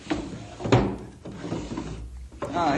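A wooden desk drawer slides open in an old radio drama, giving a few scraping, knocking bursts of wood and mechanism that are close and fairly loud, with room noise between them.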